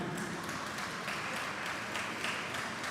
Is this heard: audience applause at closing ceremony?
yes